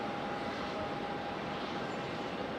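An Air Canada plane arriving from Montreal at Raleigh-Durham International Airport gives a steady, fairly faint, distant engine roar with a thin sustained whine running through it.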